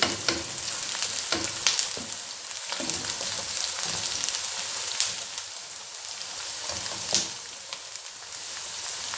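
Mutton browning in a pot for pulao, sizzling and frying loudly and continuously with occasional stirring scrapes and sharp crackles throughout, no voices.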